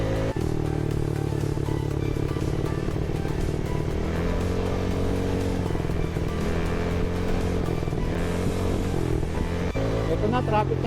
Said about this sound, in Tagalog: Ito na, traffic na naman guys.